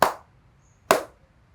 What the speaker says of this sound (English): you put it back and you clap 3 times